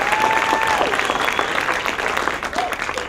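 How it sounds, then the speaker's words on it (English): Steady applause from the audience of a television producers' panel fills the room for a producer's introduction, dense continuous clapping with a few faint voices and whistles mixed in. "Round of applause for Elwood Reed."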